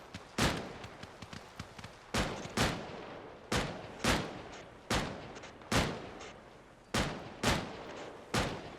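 Rifle gunfire rings out in the video game Arma Reforger during a jungle firefight. Loud, sharp shots come in an irregular rhythm with echoing tails, and quieter distant pops sit between them. Nobody speaks.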